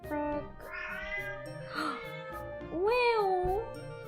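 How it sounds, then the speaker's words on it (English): A cat that rarely meows lets out several loud, drawn-out meows close by, rising and bending in pitch, with a longer wavering cry at the end and no talking. "That was the cat that never meows."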